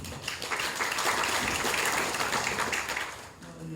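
Audience applause at a Saemaul community workshop in Pocheon, with a speaker's voice running underneath; steady, dense clapping that holds for several seconds and then tapers off near the end.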